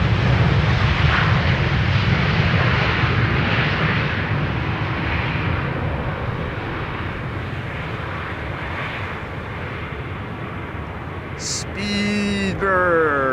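A jet airliner arriving on runway 27, the Buitenveldertbaan at Schiphol, roars loud and steady before fading slightly as it passes. A short electronic tone and faint voices follow near the end.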